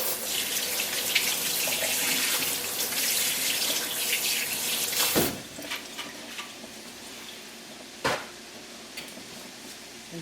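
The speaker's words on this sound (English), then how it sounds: "rinse my hands off so I can actually get them" Tap water pours steadily into a kitchen sink as hands are rinsed, a broad close splashing rush for about five seconds that then stops, followed by a few faint clunks and drips.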